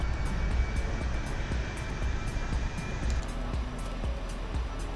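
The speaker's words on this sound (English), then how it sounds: "Engine 4 starting up now." Engine 4 of a Concorde spools up in Microsoft Flight Simulator, a steady, loud jet drone with faint repeated clicks over it.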